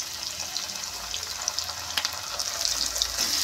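Chopped onions frying in hot oil in a pan with ginger garlic paste, a close, steady sizzle and crackle that grows slightly busier toward the end, with occasional stirring scrapes and no voices.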